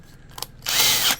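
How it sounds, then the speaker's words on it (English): A power drill bores out a short RC boat rudder for a high-flow cooling mod on a Proboat Blackjack 24, a brief tap or two then a loud, steady high-pitched whir lasting about half a second, close up with no talk. "I'm basically gonna drill this out to my pickup"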